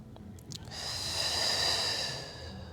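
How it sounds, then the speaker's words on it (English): During a Pilates roll down, a slow, airy breath swells and fades over about two seconds. It is close and soft, preceded by a couple of faint small sounds. "Pilates roll down, breathing in"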